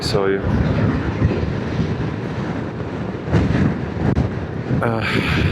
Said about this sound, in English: There's so much wind, and these trucks are not making it better.